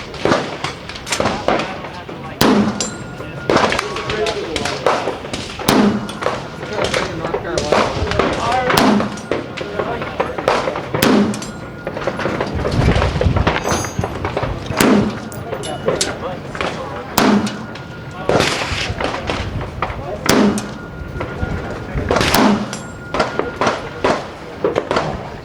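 Gunfire at an outdoor range during a trade-show range day: loud, concussive shots repeat at irregular intervals over roughly twenty-five seconds, each crack sharp and close, with people talking and general range noise filling the gaps.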